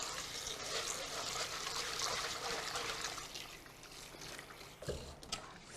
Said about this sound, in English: we're just going to give this a little rinse with cool water